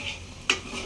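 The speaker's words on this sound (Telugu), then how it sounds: "అందుకే దీన్ని పట్టుకొని కలుపుదాం." Egg bhurji being stirred in a pan: a single sharp scrape of the utensil against the pan stands out over a faint, steady background, with no talking.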